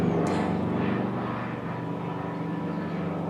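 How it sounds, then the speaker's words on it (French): A helicopter flying overhead on its way to or from a hospital, heard as a steady, moderately loud engine drone that fades slightly over a few seconds, with no talking. "je suis sur le passage des hélicos qui partent ou qui viennent à l'hosto"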